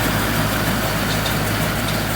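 A Dongfeng tractor engine runs at a steady, loud drone while driving a Chinese RXYK-9010 baler pressing straw, the low rumble constant and close with no pauses.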